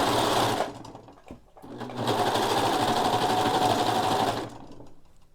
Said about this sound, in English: I'm gonna go ahead and remove that clip and just go ahead and sew straight down